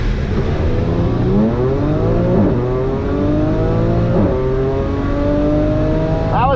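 Audi B8 S4 launching off the line at a drag strip, engine revving hard and climbing through gears with short dips at each shift, loud and continuous from start to finish.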